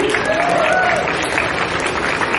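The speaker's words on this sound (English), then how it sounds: "Cheap Ass Games gave a whole bunch of prizes, so big round of applause for them" Convention crowd at an anime event applauds sponsors, a thick continuous wash of many hands clapping indoors, with a faint voice briefly audible underneath.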